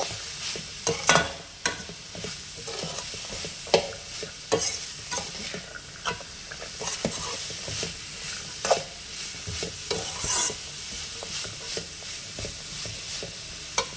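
Carrots and beans frying in a pan for Tamil-style egg fried rice, stirred with repeated scraping strokes over a steady close sizzle, with no talking.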